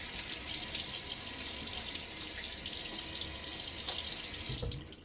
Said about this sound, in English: Let me throw some water on my face.